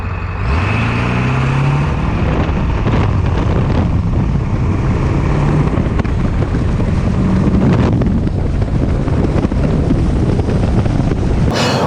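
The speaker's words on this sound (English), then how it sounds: "Now we did a 9-second something 0 to 60 in an F350 2-wheel drive." A Ford F350 two-wheel-drive pickup with a 7.3L Powerstroke diesel and upgraded injectors accelerates hard from 0 to 60, a loud, steady engine roar heavily buffeted by wind noise throughout.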